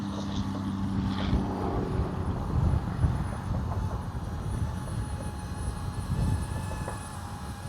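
A DJI Avata 2 FPV drone flies in manual mode in crosswind and comes in to land, its propellers buzzing steadily with rising and falling pitch amid wind buffeting on the microphone.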